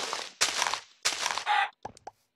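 Chicken clucking from the video game Minecraft: a quick series of short, bright clucks in close bursts, a few sharp chirps trailing off at the end.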